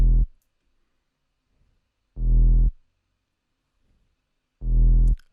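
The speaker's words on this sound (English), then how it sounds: "The melody throughout the song sounds like this." A simple FL Studio synth melody from a track: three loud, bassy harmonic notes spaced about two seconds apart, with near silence between them and no voices.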